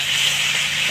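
Chopped tomatoes with salt hitting a hot frying pan; a loud, steady sizzling hiss lasting the whole second, with no talk.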